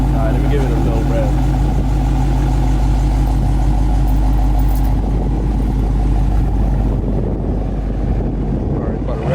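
A Mopar Hellcat or Scat Pack V8 with active exhaust idles and revs as a loud, steady low rumble heard close up with some wind noise, while people talk over it.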